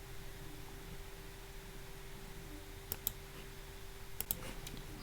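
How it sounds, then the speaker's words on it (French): Quiet mouse clicks come at a computer while Ableton Live is being installed: a couple of soft single clicks, then a short cluster, over a faint steady hum with no talking. "Je clique ici."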